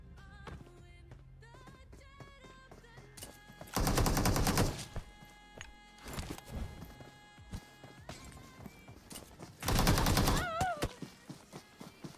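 Gunfire in a mobile battle royale game, with two loud sustained bursts of automatic fire plus scattered single shots and clicking game effects between them. No one speaks.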